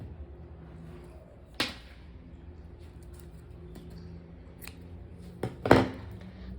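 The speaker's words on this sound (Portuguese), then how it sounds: "Agora eu vou cortar esse fio." Scissors snip through crochet yarn on a small crochet clutch bag, giving two or three brief, crisp cuts spaced apart over a low steady background hum.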